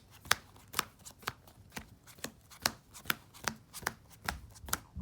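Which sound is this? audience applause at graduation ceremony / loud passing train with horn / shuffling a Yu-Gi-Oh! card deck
shuffling a Yu-Gi-Oh! card deck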